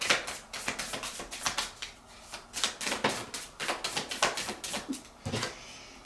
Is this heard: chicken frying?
no